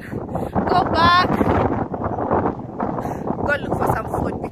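Strong wind buffets the microphone on a hilltop hiking spot near Nairobi, a loud continuous rumbling gust with rustling, while a person talks over it.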